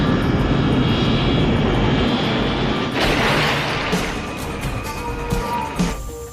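A loud, continuous airplane engine roar, close and steady, building into a powerful rumble as the aircraft takes off, with no voices.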